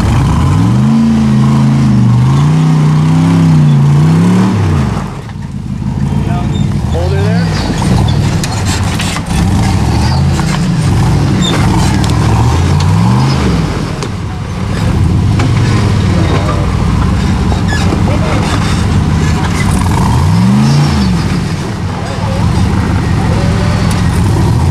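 A loud off-road vehicle engine revs repeatedly in bursts on a trail, rising and falling in pitch, with rough rumbling noise throughout and occasional voices under it.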